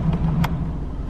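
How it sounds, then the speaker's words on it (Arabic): Diesel engine of a 2018 Isuzu MU-X starting up, a brief close cranking catch that settles straight into a low, steady idle. "شغل المحرك الديزل"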